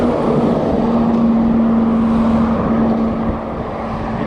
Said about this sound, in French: Attention camion.